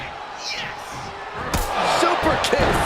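Wrestling arena crowd cheering and roaring at a WWE SmackDown show, a steady broad din that swells louder halfway through with sharp bursts and whoops, under commentary.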